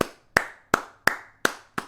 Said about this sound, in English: Yo, round of applause.